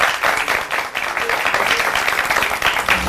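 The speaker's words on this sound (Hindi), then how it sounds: "बहुत सारी तालियां होनी चाहिए" Steady, dense applause from a studio audience greeting wrestler Badshah Pehalwan Khan on a morning TV show, continuous loud clapping throughout with no gaps.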